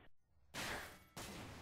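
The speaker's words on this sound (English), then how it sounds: "I heard gunshots, get down." Two loud, sharp blasts of video game gunfire, each cutting in abruptly and ringing out briefly, close and harsh, with no talking.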